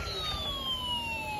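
A steady electronic siren tone from a battery-powered toy ambulance slowly falls in pitch, thin and continuous, with a faint low rumble underneath.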